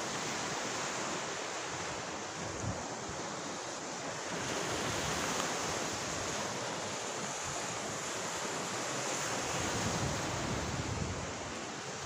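Ocean surf at a beach in Northern Cebu washes in a continuous, steady roar with gusts of wind noise across the microphone, no voices present.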